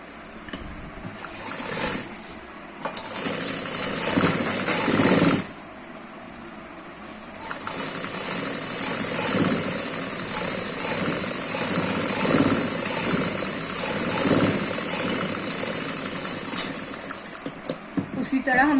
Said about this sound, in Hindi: फिर हम इस तरह से बैठाते हुए सिलाई करेंगे